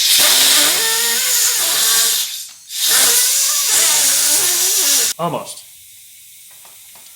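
Compressed air from a shop hose blasts into a motorcycle handlebar grip on a Honda CRF450R to blow it off, giving two long loud hissing bursts with a short gap, then quieter sputters as a voice speaks briefly.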